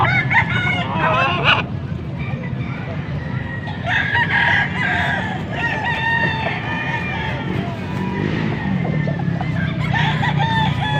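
A rooster, a full stag, crows repeatedly and loudly up close at a gamefowl sale in Pampanga, with other birds clucking and people talking in the background.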